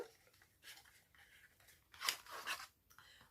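Electric scissors are unboxed from their packaging at a creative crafts fair: faint rustling and crinkling of cardboard and plastic, with a sharper tearing burst around the middle, and no voices.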